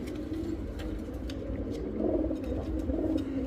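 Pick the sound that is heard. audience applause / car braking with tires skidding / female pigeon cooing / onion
female pigeon cooing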